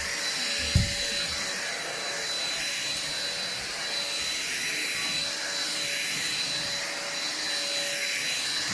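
An Ambiano vacuum cleaner from Aldi runs at a steady, loud, high-pitched whine with a constant airy roar, close and unbroken, with a single brief bump near the start.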